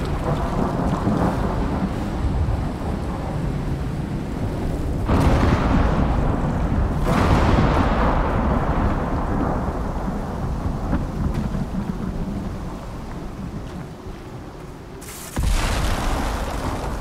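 A thunderstorm with rain in the Icarus video game: steady, loud rain hiss throughout, with deep rolling thunder surging in around five and seven seconds and a sharp crack near fifteen seconds.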